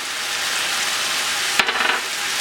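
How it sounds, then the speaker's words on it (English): Beef and its juices sizzle loudly in a hot pan for lemongrass beef, a steady hiss broken by a short clatter and scraping as the mixture is stirred. "we're just going to put the beef and the juice right back in there. Stir it up."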